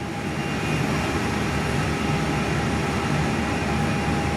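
Qantas Airbus A319 airliner touching down at Perth airport, heard from an indoor viewing area as a steady, loud broadband roar with a faint whine, continuous throughout with no talking.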